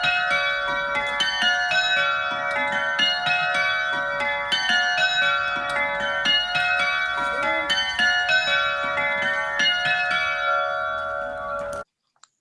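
Church bells at Elkstone, recently retuned, ring in a steady, rapid peal of overlapping strokes, loud and sustained before stopping abruptly.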